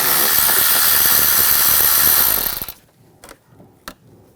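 A 10mm socket on a power tool removes an ignition coil nut on a 2000-2006 BMW X5 3.0L inline-six, giving a loud, steady whirring buzz for about two and a half seconds. It then cuts off, leaving a couple of faint clicks.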